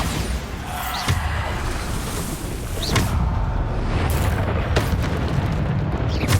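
Repeated booming blasts from Bombarda explosion spells in Hogwarts Legacy erupt amid dense combat noise, with several sharp bursts spaced a second or two apart over a constant loud rumble.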